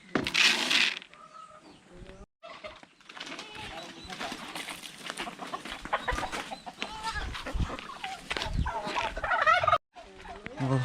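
Turkeys on a goat farm gobble and cluck in bursts amid other fowl calls, fairly close, with a person talking in between.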